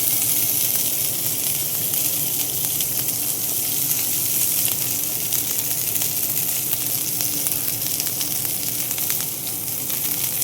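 Amaranth stems sizzle and fry steadily in a hot pan with cumin, a continuous dense crackling hiss that stays loud and close throughout with no talking.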